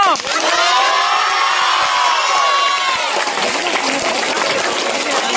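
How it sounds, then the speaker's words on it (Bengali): A crowd claps and cheers for a prize winner at a school talent search award ceremony, with children shouting and whooping over continuous loud applause. "জোরে হাততালি রাফিদের জন্য।"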